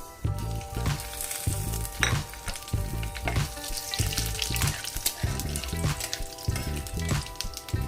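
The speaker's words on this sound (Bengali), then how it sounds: "এই তেলের মধ্যেই এখন আমি দিচ্ছি দুটো শুকনো লঙ্কা, একটা তেজপাতা আর সামান্য পাঁচফোড়ন।" Dry red chillies, a bay leaf and panch phoron sizzle in hot oil for Bengali dudh shukto, a steady, loud crackling fry with sharp pops scattered throughout, no voices.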